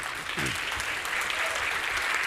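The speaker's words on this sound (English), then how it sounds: "please join me in one more round of applause for our wonderful panel today" A round of applause for a panel at a food bank leadership event, a crowd clapping steadily and evenly throughout, fairly close and full, with no talk over it.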